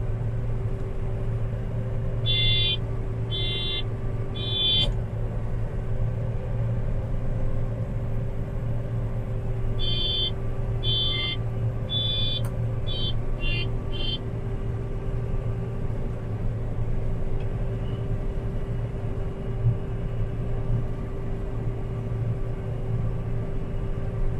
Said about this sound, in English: So the expert's son is driving the Challenger on the bank out cart.